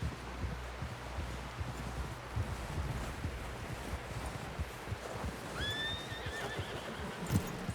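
A horse in Red Dead Redemption 2 lets out a brief whinny near the end, over a quiet bed of hoof clops, rustling and wind.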